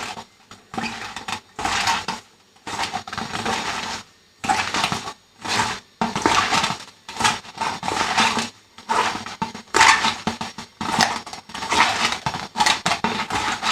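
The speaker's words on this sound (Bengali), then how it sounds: "ততক্ষণে আমি আদা, রসুন, কাঁচা লঙ্কা বেটে নেব" Ginger, garlic and green chilli being ground into a paste, heard as bursts of crushing and grinding that start and stop in an irregular rhythm, close and loud, with short quiet gaps between them.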